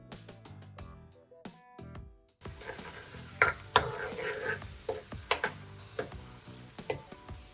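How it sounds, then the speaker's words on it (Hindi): Garlic ginger paste fries in oil in a karahi, giving a steady soft sizzle with scattered clicks and scraping stirs of a utensil against the pan, fairly quiet and close, with no talking. "एक मिनट तक आपने लहसुन अदरक के पेस्ट को फ्राई करना है"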